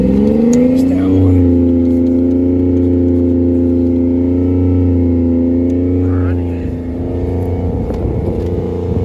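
Buick car engine held at high idle, a loud, steady drone with strong harmonics running nearly unbroken and easing off slightly near the end; no talk over it.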